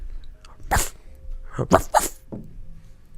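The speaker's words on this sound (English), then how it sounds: "You guys just heard like a loud noise, but that's Ray's dog." Dog barking in several sharp, close bursts, a single bark followed by a quick pair and a softer last one, with quiet gaps between.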